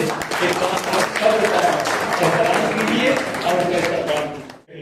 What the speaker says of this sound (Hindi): आप लोग जोरदार तालियों से